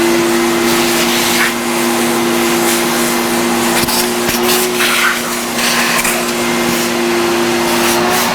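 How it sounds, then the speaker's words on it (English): A vacuum cleaner runs continuously across the area being cleaned, a loud, steady whine with a constant hum and faint rattles, no talking. "let's vacuum that area first."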